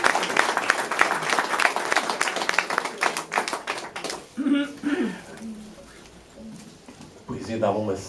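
Lively audience applause at a poetry book presentation rises at first and thins out after about four seconds, then a voice starts speaking over the room's quiet.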